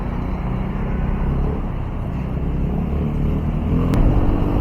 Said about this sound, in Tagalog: Grabing traffic dito sa Panakan.